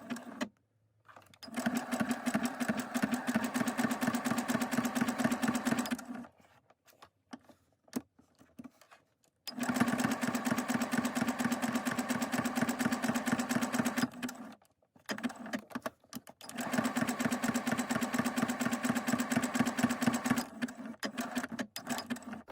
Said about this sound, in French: Je vais venir faire maintenant un point zigzag, voilà, tout autour.